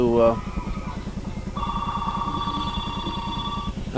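A telephone rings inside a bowling alley during a broadcast of a school bowling match. The ringing starts partway through as a steady tone over a rapid low rumble of background machinery, and a commentator talks throughout.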